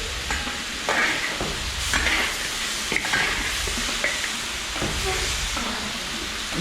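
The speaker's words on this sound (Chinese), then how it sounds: "一起炒一炒。" Spareribs being stir-fried in a wok, with a steady close sizzle and repeated scraping stirs of the spatula against the pan, while a brief voice murmurs now and then.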